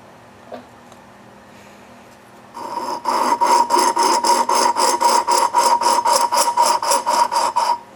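Engine valve on a 1935 Stover engine being lapped with lapping compound, a quiet start giving way to a rhythmic gritty rasp of quick, even back-and-forth strokes, close and fairly loud.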